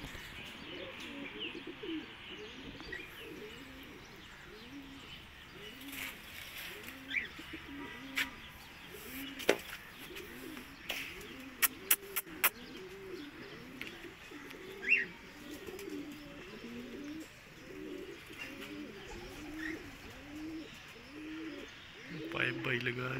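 Pigeons perched near a trap setup coo in a steady rhythmic series, soft and moderately close, with scattered brief chirps and faint background voices.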